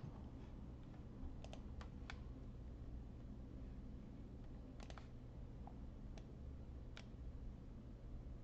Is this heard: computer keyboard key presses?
yes